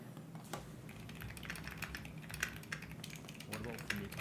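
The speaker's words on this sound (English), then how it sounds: "What about for me typing, for example?" Rapid clicky keystrokes on a computer keyboard, uneven and close, with soft voices talking underneath.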